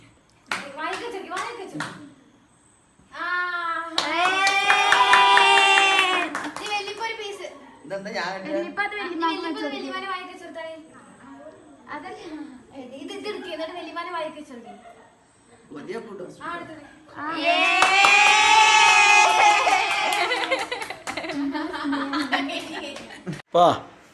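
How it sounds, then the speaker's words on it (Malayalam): A group of people, including children, laughing and chuckling together at a Diwali gathering, with bursts of hand clapping mixed into the loud, close laughter and chatter. "കൈയടിക്ക"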